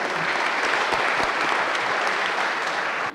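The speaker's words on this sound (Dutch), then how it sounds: "Applaus nog, 1 applaus voor de aanwezigen" Steady, full applause from an audience at a community meeting in Vierlingsbeek and Groeningen fills the room, loud and continuous, then cuts off abruptly at the end.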